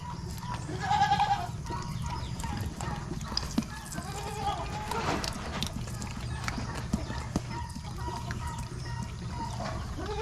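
Baby goats bleat on an Australian-run farm in the Philippines, with a few short cries over a steady outdoor rumble, bustle and faint clopping, fairly close.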